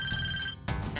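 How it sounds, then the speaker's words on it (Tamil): A telephone ringtone rings in bursts, an electronic tone pattern that cuts off and restarts, fairly faint and alone with no talk. "ரிங்டோன் கேட்கலையா?"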